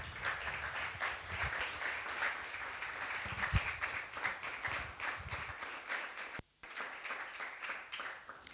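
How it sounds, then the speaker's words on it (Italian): An audience at an Italian roundtable on safe, inclusive and accessible cultural spaces applauds the expert panelists, a dense, steady clapping that runs for about six seconds, breaks off briefly, then resumes more thinly. "chiedo di fare un applauso alle nostre esperte."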